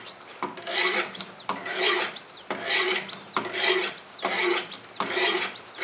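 Knife blade drawn repeatedly across a coarse 100 grit whetstone, six steady rasping strokes about a second apart, close and loud with no talking.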